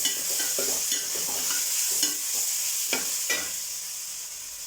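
Onions or masala softening in hot oil in a pan for a Kerala chicken curry, a continuous close sizzle broken by repeated spatula stirs and scrapes, heard alone.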